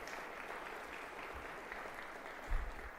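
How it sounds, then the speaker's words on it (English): A round of audience applause at an annual nonprofit event, a faint, distant wash of clapping that holds steady for a few seconds, with a brief low thump near the end. "Give them a round of applause, please."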